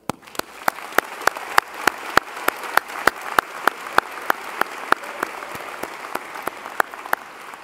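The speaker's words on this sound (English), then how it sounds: "A round of applause for them." Graduate and PhD commencement crowd at Bentley University applauding the newest double Falcons, a steady mass of clapping punctuated by sharp, regularly spaced loud claps close by, roughly three per second.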